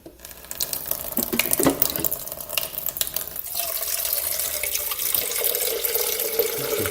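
Tap water runs to refill the reservoir of a Krups Nespresso coffee machine, starting with some splashy bursts and then settling into a steady, close filling stream.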